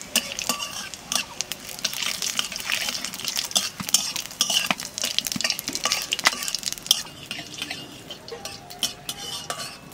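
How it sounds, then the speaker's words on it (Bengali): Radhuni and cumin seeds frying in hot oil for a Bengali river-fish dish with drumsticks, heard as a steady close crackle with stirring scrapes and light clinks of a utensil against the pan throughout. "তেলের পর দিয়ে দেবো রামধনি আর জিরে।"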